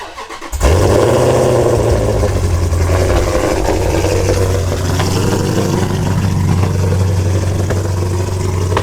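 A Jeep SRT engine cranks and roars to life, then settles into a steady, loud, rumbling idle that continues throughout.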